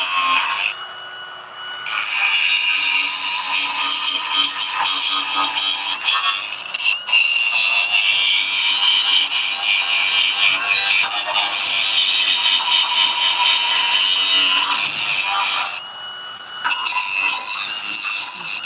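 Grinding something down during a generator installation on a motorhome, a loud, steady abrasive rasp that runs almost continuously, dropping away briefly twice before resuming, with no talk.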